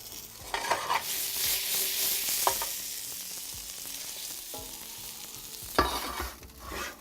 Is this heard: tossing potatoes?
yes